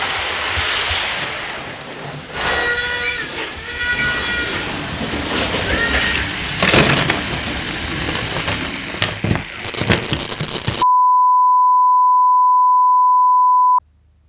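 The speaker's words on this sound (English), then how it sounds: "suddenly without warning the loco would accelerate to full speed and this would happen" A Hornby 00 gauge live steam locomotive on a model railway surges to full speed. Loud clattering wheel and track noise with squeals and rattles builds for several seconds, then cuts out and gives way to a steady electronic beep tone.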